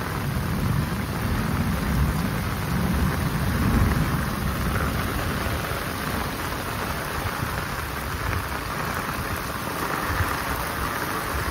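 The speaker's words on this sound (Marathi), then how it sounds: "बापरे किती पाऊस आहे बघा. हे बघा विजांचा चमचमट आहे. गडगडतो एकदम" Heavy monsoon rain pours down in Konkan during a thunderstorm, a dense, loud, continuous roar of rainfall with low rumbling underneath, steady throughout and with no voices.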